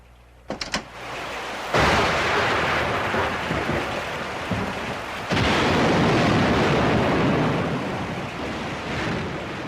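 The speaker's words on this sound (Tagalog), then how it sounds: "may bagyo ba?" Heavy thunderstorm noise, loud dense rain-like roar with rumbling bursts of thunder that swell abruptly and then sustain, close and continuous without any speech.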